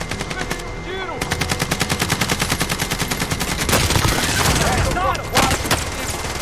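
Rapid automatic gunfire rattles in a steady, loud stream, with extra shots and bursts layered on top of game sounds.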